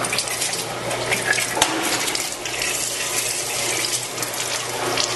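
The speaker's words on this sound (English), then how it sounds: "And using the oil that is flowing out, we can begin washing down our fryer" Cooking oil pouring out of a commercial deep fryer drain as it is used to wash down the fryer, a steady, loud, continuous rush of flowing liquid with no pauses or speech.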